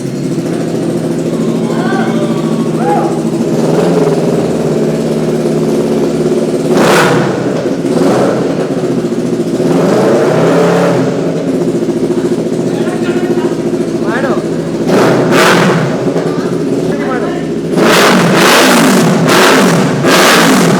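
A new motorbike's engine runs loud and close throughout, idling with a steady rumble and then revving in several sharp bursts, with voices talking over it.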